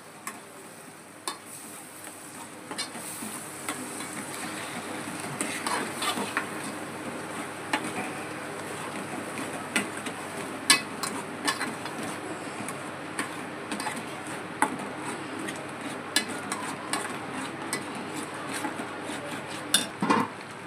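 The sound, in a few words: sautéing masala for rawas fish curry in a pan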